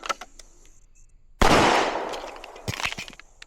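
A Springfield Prodigy 2011 pistol fires a sharp, loud shot during a reload drill, with a ringing decay afterwards, followed by clicks and handling noises from the reload and a further fainter report.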